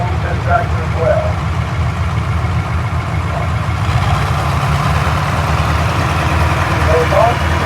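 A 1950 Oliver four-wheel-assist tractor idles at a tractor parade at the National Oliver Show in Boonville, Missouri, its low, steady engine rumble continuous and fairly loud, with crowd voices under it.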